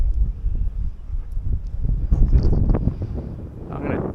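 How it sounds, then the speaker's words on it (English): Strong gusts on a windy day while flying a Turbo Timber Evolution model plane, a rough buffeting rumble of wind noise across the microphone, continuous and fairly loud. "Wind!"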